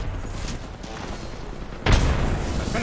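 A grenade explodes in a first-person shooter game, a sudden deep boom partway through that lingers as a rumbling tail over faint background game ambience.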